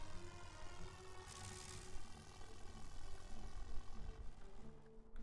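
A WWI Fokker fighter plane's engine in a war game drones on steadily and faintly for the whole stretch, a continuous buzzing hum with no break.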